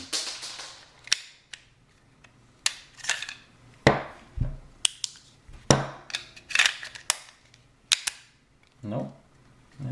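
A Smith & Wesson 422 pistol dry-fired on inert plastic snap caps, a series of sharp close metallic clicks and snaps from the slide and action at irregular intervals, with some talk between them.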